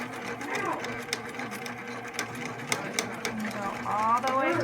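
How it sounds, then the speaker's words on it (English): A sewing machine stitches the bottom seam of a drawstring bag at a half-inch allowance, running in a steady continuous whir with a few brief sharp clicks, close and prominent, while someone talks over it. "And now I'm going to sew the bottom of it, again, at 1/2 inch."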